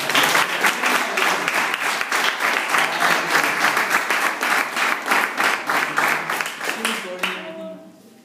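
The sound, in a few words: applause for the boys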